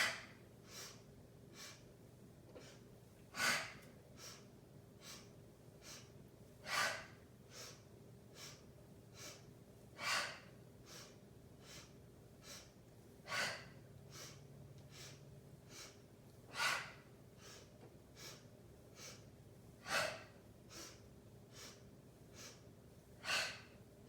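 Heavy rhythmic breathing during a navel kriya yoga exercise: forceful breaths repeat at an even pace, with louder accented exhales every few seconds over a quiet steady background.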